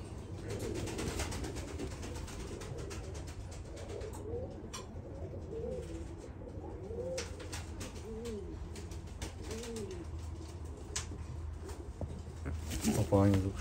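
Kakite pigeons, show-quality females, cooing in a loft: a series of soft, rolling coos repeated through the middle of the clip against steady background noise, with someone talking at times.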